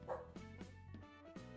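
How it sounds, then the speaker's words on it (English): Several dogs bark in short, close, loud bursts, three or four yaps spaced across a brief moment with a whimpering quality. "Sorry, dogs."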